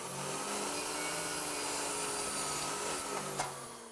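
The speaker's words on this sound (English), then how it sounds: "I'll cut these arms to length over at the compound miter saw" A compound miter saw cutting timber arms to length for a kitchen diner build, a steady loud whine and rasp running unbroken through the whole stretch, with a brief sharp knock near the end.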